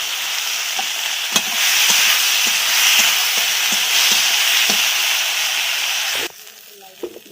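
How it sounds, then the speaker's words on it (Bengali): Loud, continuous sizzle of crushed garlic frying in oil with regular stirring clicks, then the hiss suddenly drops away near the end, leaving quiet clatter. "পাঁচ থেকে সাতটা রসুন থেতো করে নেওয়া দিয়ে দিলাম"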